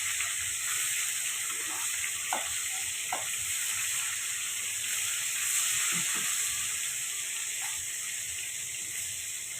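Rohu fish pieces frying lightly in hot oil in a pan give a steady, close sizzling hiss that runs throughout, with a few faint soft pops and stirring sounds beneath.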